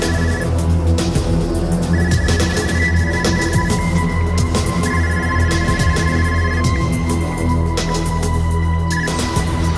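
A telephone call to a grandmother rings over and over, with even bursts of ringing tone above a constant low background drone. No one talks.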